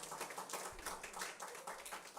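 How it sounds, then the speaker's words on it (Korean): A church congregation claps briefly at a Sunday service, a soft and distant patter of many hands. "박수 주세요"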